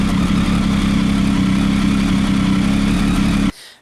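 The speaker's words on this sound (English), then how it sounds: "not sure if you heard me over the engine noise" A Triumph Tiger motorcycle engine with a bad idle runs loudly and steadily up close, a constant throbbing rumble that cuts off abruptly near the end.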